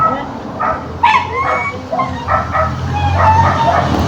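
Several dogs bark and yip in short bursts, some whimpering, close by, with a steady rushing background noise.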